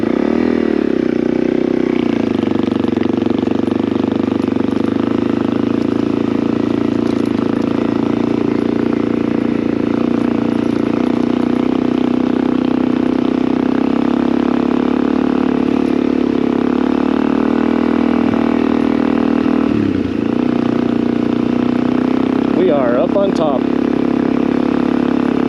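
Motorcycle riding up mountain roads on Signal Peak, its engine droning steadily and loud throughout, with a brief rise in pitch near the end.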